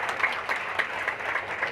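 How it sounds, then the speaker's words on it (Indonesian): Audience at a Bekasi city government investment gathering applauds with a steady patter of clapping, fairly quiet and distant, under no talk. "Tepuk tangan, Bang."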